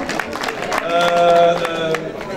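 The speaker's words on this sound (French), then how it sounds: "Bravo, bravo, bravo, on applaudit" Audience applause rises through a crowd at a Paris film premiere, a dense patter of clapping that swells and then fades, with a voice briefly over it.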